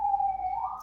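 An emergency vehicle siren sounds outside a house as one steady wailing tone that bends slightly upward near the end, clear and fairly loud but brief.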